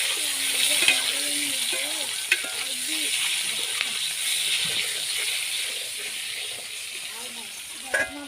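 An egg frying in hot oil in a pan, a steady soft sizzle and hiss running throughout, with faint stirring clinks and a voice speaking over it.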